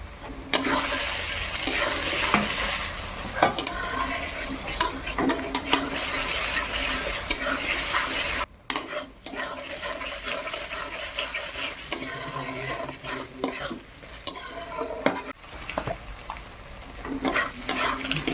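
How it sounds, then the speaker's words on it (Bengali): Ginger-garlic paste frying in a pan after onions for a chicken curry: a continuous close sizzle with frequent spatula scrapes and metal clinks while stirring, briefly dipping once midway. "আদা রসুন ভালোভাবে ভাজা হয়ে গেছে"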